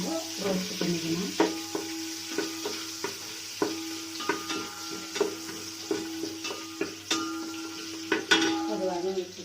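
Green chillies, cloves and star anise roasting in a pan for Andhra biryani, with repeated scraping stir strokes and clinks over a soft sizzle, close and moderately loud.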